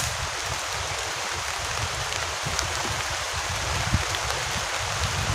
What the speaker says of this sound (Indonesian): Hujan deras banget nih.